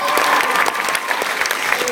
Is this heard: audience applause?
yes